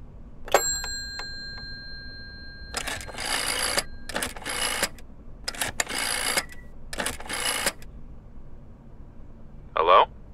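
A telephone in the game Layers of Fear: a ringing bell-like chime opens, followed by several bursts of handling and clicking noise, then a short bright tone near the end.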